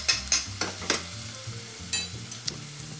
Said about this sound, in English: We can hear the sofrito starting to get a little quieter.